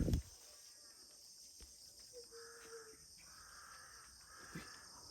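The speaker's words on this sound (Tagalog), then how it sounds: "Bakit maingay yung mga uwak?" Crows cawing in a quiet, eerie outdoor setting, a few faint harsh calls spread out over several seconds against a steady insect hum.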